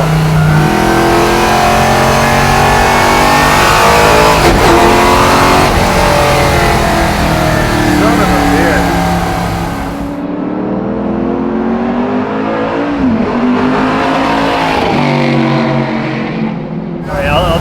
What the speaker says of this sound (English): a first gear downshift